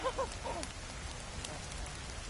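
Rain falling in the survival video game The Forest, a faint, steady hiss of drops throughout with a couple of brief chirping game sounds at the start.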